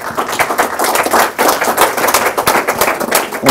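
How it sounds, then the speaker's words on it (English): An audience at a money and business seminar claps loudly and steadily for a man called up to the front, a dense close patter of hands that stays strong throughout with one brief dip. "I want you to just give John a big clap here."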